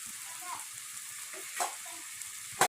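Chicken masala sizzles faintly in a pan at home as it is stirred, a low steady frying hiss with a few soft scrapes and one sharp clatter near the end.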